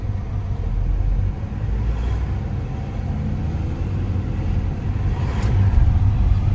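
A car's engine drones steadily, with a low rumble building slightly toward the end as it picks up speed during a driving lesson, close and continuous without speech.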